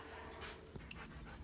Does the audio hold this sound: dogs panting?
yes